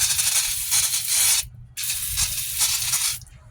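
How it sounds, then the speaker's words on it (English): Brake cleaner sprays onto drum brake parts during a brake rebuild in two long, loud hissing bursts separated by a short pause, close up with no voices. "give the old brake clean"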